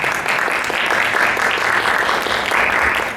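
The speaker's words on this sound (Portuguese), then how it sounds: "queria chamar o palco aqui, Patrícia Braga Alves, uma salva de palmas." Seminar audience at a culture event in Mogi das Cruzes breaks into steady, dense applause, loud and continuous throughout.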